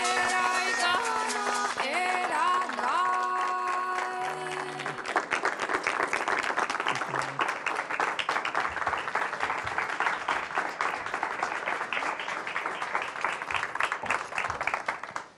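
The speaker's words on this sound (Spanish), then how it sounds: "Pocas veces un aplauso tiene tanto sentido." An audience applauds Estela de Carlotto, historic president of the Abuelas de Plaza de Mayo, at a cultural show. A few seconds of music lead into dense, sustained clapping that fills the room to the end.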